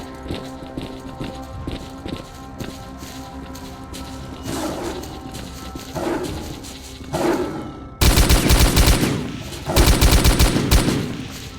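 Gunfire in the video game S.T.A.L.K.E.R. Call of Pripyat, starting with scattered shots and booming reports, then erupting into loud, rapid automatic bursts that rattle in quick clusters near the end.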